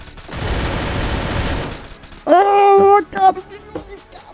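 A grenade explodes in the battle royale game Free Fire: a loud, dense burst of blast noise rumbles for about two seconds, then a wavering voice-like tone and scattered game sounds follow.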